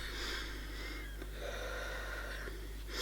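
Faint asthmatic wheezing breath from a person with severe brittle asthma, soft whistling tones drawn out over a few seconds with a quiet sniff, close and low in level.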